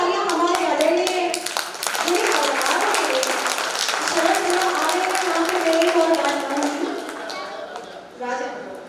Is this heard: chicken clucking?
no